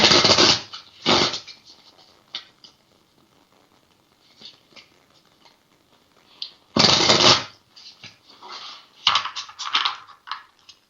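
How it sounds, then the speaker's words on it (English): Cards riffle and shuffle up close in several loud bursts, separated by quieter handling and soft taps. "Let me get some cards shuffled here"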